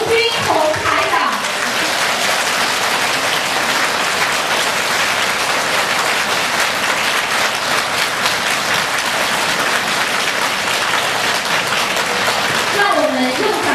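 A large audience at a Buddhist friends' gathering in Bangkok, Thailand, gives dense, unbroken applause that rolls on loudly for several seconds, with an amplified voice briefly heard at the start and the end.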